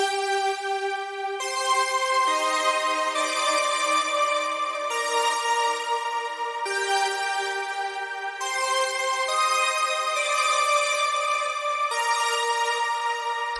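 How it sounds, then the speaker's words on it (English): A synth lead loop from a rave techno track at 137 BPM plays alone, a steady bright repeating pattern of sustained harmonic notes shifting pitch every couple of seconds, even and full in loudness throughout. "First sound we have here is this first lead,"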